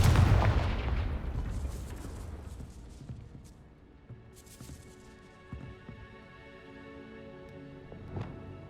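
A booming blast from the Confringo fire spell in Hogwarts Legacy hits at the start, then its rumble decays and fades into quieter game ambience broken by a few sharp thuds and clicks.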